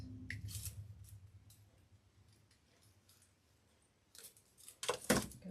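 Scissors snip through craft material during a paper craft project, a few quiet cuts at the start and then a louder cluster of sharp snips near the end, close by with no talking.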